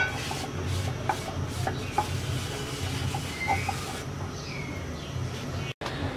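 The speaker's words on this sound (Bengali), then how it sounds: "প্যানটাকে মুছে নিব" Tissue paper with a little oil rubs across a pan on the stove in soft, close scraping and swishing strokes that repeat for several seconds.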